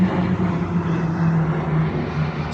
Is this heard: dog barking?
no